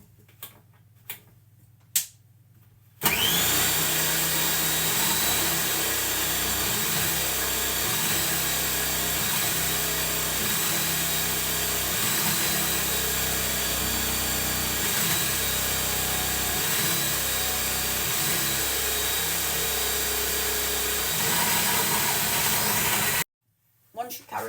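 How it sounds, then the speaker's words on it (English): A food processor with a grating attachment shredding carrots, starting abruptly with a loud, steady whirring roar and rhythmic chopping texture that runs for about twenty seconds before cutting off, with brief clicks before and after. "pop your carrots in there and let the machine do the job"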